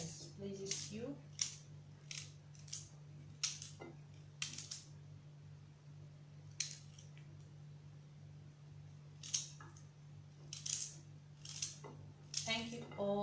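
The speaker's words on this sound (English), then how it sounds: "Dice the carrots this way as well as it pleases." A knife dices carrots on a cutting board, giving irregular bursts of sharp, close chops separated by short pauses over a low background hum.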